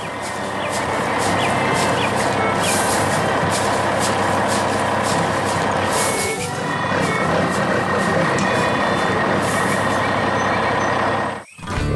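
A cartoon green and yellow farm truck works around a farm with a red building and windmill, its engine droning steadily with repeated high reversing beeps, loud and continuous until a brief cutoff near the end.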